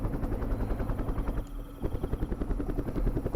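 Helicopter rotors beating in the Vietnam War strategy game Campaign Series Vietnam, a loud, close, rapid rhythmic chop with engine whine, briefly dipping mid-clip before resuming at full strength.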